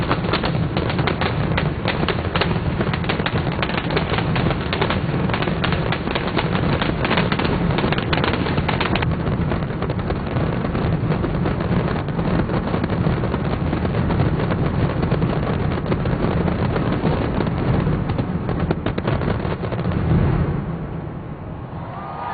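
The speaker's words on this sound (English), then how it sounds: "You can literally smell the fireworks. You can certainly hear them." Fireworks bursting at a London New Year's Day display, a dense, continuous barrage of loud bangs and crackles rolling on without pause, easing slightly only at the very end.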